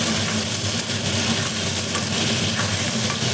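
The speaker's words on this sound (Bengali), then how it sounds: "চলো এটা ভেজে ঢেকে দেবো" Vegetables frying in a pan: a loud, steady sizzle and hiss that continues throughout with no breaks and no talk.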